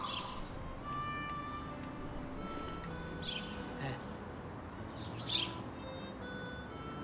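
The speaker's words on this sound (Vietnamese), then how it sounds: "Nghe rồi, chim hót." Birds chirp faintly in the distance, with a few short, sparse tweets over a quiet background.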